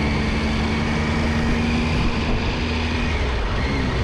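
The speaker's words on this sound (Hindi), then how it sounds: "इंजन की साउंड देखना कितनी प्यारी आ रही है" A Triumph Tiger XRX motorcycle engine runs steadily close by, a continuous low mechanical drone with a faint steady tone, alone without talk.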